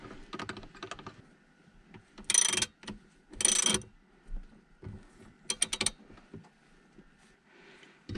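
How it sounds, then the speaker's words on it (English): Seat rail nuts on a Honda EK3 seat being tightened by hand give off close, sharp bursts of metallic clicking and rattling, separated by quiet pauses. "So we'll just tighten these up as much as we can by hand."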